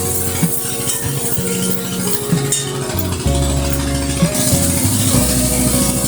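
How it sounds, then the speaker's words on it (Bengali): Spice masala with coriander and chili powder frying and being stirred in a pan for a Bengali hilsa fish dish, a steady close sizzle with repeated scraping and clinking of the spoon against the pot. "এবার আমি মশলাটাকে ভালো করে কষিয়ে নেব।"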